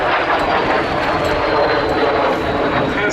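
A 1952 two-seater jet that served with the Polish Air Force until 1990 and was built under licence by WSK in Poland flies at Duxford Air Festival 2017, giving a loud, continuous broadband roar.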